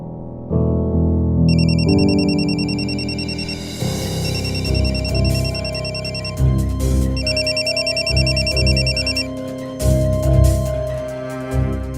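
A mobile phone rings unanswered in a home where it was left behind, its loud, repeating melodic ringtone with bright chiming tones playing steadily for the full length, with no voices.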